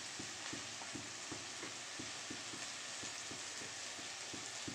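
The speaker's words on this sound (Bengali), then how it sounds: "এইবার দিয়ে দেবো আদা রসুন পেস্ট" Ginger-garlic paste fries in a pan with a continuous hiss, while a spoon stirs in a regular rhythm of soft scraping strokes roughly twice a second.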